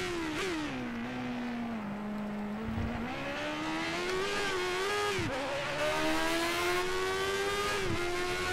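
A 1980s Formula One car engine in the F1 2013 racing game, racing at the American Grand Prix: a loud, continuous high-pitched engine whine that rises through the gears, dropping sharply at each shift before climbing again, heard alone.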